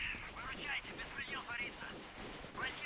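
Gunfire in the video game S.T.A.L.K.E.R. during a fight with bandits, repeated sharp bursts of shots at a moderate distance, mixed with other game sounds.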